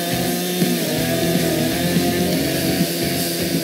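A chainsaw cuts a flat spot into a log for a cabin roof, a steady, loud, continuous buzzing grind that holds without a break from start to finish.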